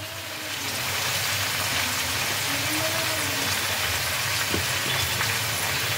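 Mixed vegetables fry in a pan as boiled cauliflower stalks are added, making a steady, close crackling sizzle like rain on a surface, with occasional stirring scrapes.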